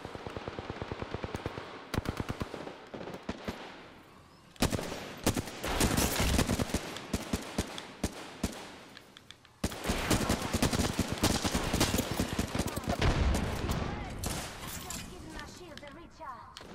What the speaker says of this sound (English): And I've got bullets in my gun ready to unload.